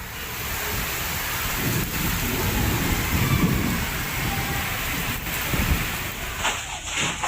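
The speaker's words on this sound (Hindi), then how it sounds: "बिहार के हाजीपुर में भी आंधी और पानी आफत बनकर बरस रही।" Heavy rain pours steadily through a thunderstorm in Hajipur, Bihar, with gusty wind buffeting the microphone and low thunder rumbling underneath; a dense, constant roar with no voices.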